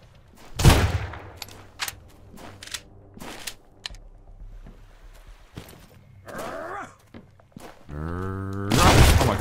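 Gunfire in the Sunkenland video game: sharp, loud shots crack out singly and in short bursts, separated by quieter gaps with footsteps and rustling, then end in a rapid volley.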